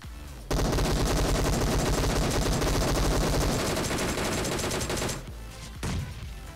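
Sustained rapid automatic gunfire in the PUBG Mobile battle royale during a squad match, loud and dense bursts running for about five seconds, then a short pause and a last brief burst, with no talking.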